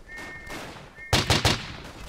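A gun in the World War I shooter Verdun fires a quick string of three loud, sharp shots in rapid succession after a quieter stretch of distant battlefield noise.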